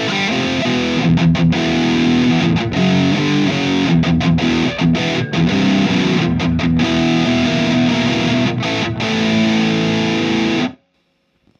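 Electric guitar run through an overdrive stacked with a Maxon distortion pedal on a GH Systems pedalboard, playing loud, heavily saturated chugging riffs with brief rhythmic stops before ending abruptly into near silence.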